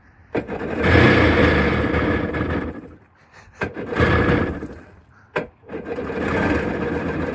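A jet ski engine fitted with a hoodstack cranks and catches, then roars loudly and close, dips briefly, and restarts in repeated surging bursts.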